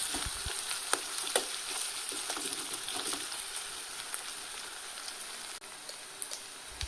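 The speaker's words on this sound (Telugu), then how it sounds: "సో అది బాగా వేగనివ్వండి" Home-pounded ginger garlic paste frying with onions in a pan for a chicken potato curry, a continuous rain-like hiss and crackle with sparse stirring ticks, moderately quiet and steady throughout.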